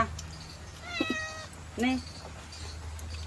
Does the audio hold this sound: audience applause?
no